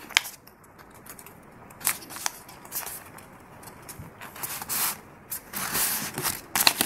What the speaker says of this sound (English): fold this half line to this center line